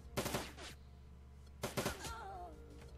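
Turrets fire in the video game Shadowrun: Dragonfall, two short rattling bursts of rapid automatic gunfire about a second and a half apart, with a faint tonal hum lingering after each.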